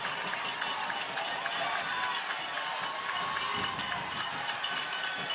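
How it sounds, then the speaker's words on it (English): A football crowd in the stands cheering on its defense during a high school varsity game. The roar is steady, dense and sustained throughout. "This Kamitian field crowd starts revving it up for their defense."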